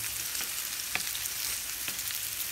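Stuffed bitter gourds (karela) fry in hot oil while being flipped and pressed to brown, giving a steady close sizzle with a few sharper crackles and pops and no talk.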